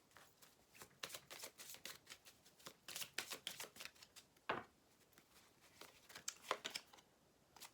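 Tarot cards are handled and shuffled close up, a busy run of crisp riffling and papery flicks in uneven bursts, fairly faint, with no voices.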